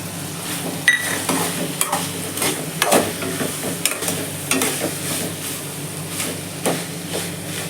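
Rajma pulao being lightly mashed and stirred in a pot, with a steady scraping and stirring texture, soft sizzling underneath and a few sharp clinks of the spoon against the metal rim, close and continuous.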